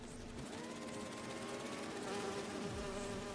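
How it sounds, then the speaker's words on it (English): Holographic bee wolves from the Marvel's Spider-Man 2 video game give off a steady insect-like buzz that holds through the whole clip, with a faint sliding tone near the end and no talk. "Do you see those little holographic bee wolves?"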